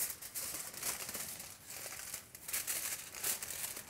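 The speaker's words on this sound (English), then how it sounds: "So put a foil in here." Hair colouring foil being placed and folded into a back section during a balayage colour application, giving soft, continuous crinkling and crumpling at close range with small rustling bursts throughout, and no talking.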